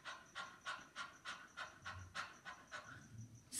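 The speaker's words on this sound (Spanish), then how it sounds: "este ejercicio es como un jadeo" Rapid, rhythmic panting breaths from a breathing exercise in an orchestra setting, about a dozen short close puffs in steady succession, quiet and alone.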